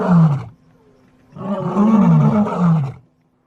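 A lion roars twice, close and powerful. A short deep grunt is followed by a pause, then a longer rolling roar that swells and fades, with nothing else behind it.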